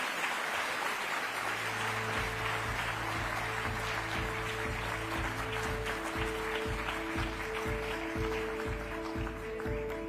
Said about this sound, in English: Can you please give a round of applause, a proper round of applause?